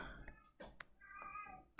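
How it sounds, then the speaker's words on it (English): A cat meows several times nearby in a quiet room, giving short, tonal, rising and falling cries with brief gaps between them, faint overall with a small click at the end. "that's my cat making noise"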